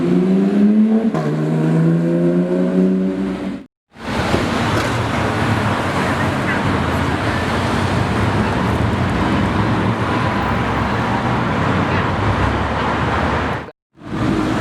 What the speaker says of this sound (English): Oh, it's a Gallardo.